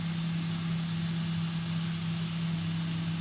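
Carrots for a chicken red curry cooking gently in a pan, a continuous, even steamy hiss over a low steady hum, unbroken and with no voices.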